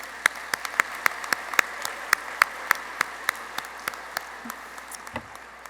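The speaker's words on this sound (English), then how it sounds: "So, round of applause for everyone." Applause at the 2023 Prevent Cancer Foundation Gala: sharp, sparse claps ring out in a steady, evenly spaced rhythm, close and distinct with no talking.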